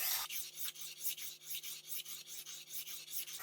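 Kitchen knife drawn across the coarse side of a whetstone, giving a repeated rasping grind in steady strokes, about a dozen quick passes, close and clear with no talk.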